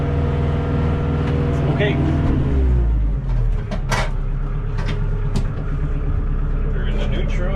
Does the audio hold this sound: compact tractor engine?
yes